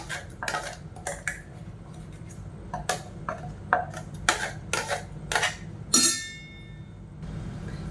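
Tomato paste being mixed into dosa batter in a bowl: a ladle clinks and knocks against the vessel in quick irregular strokes, close, ending in one sharp ringing clang, with a low hum beneath.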